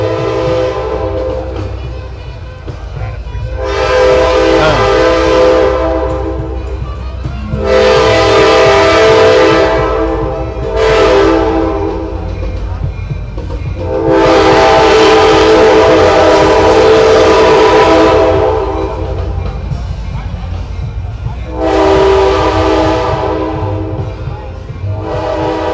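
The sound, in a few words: train passing with horn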